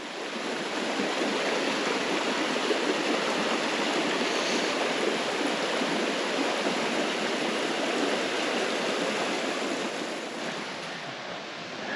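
Stream water rushing steadily past a rainy campsite in the Yukon, a dense, continuous broadband wash that stays close and loud for the whole stretch, with no talk over it.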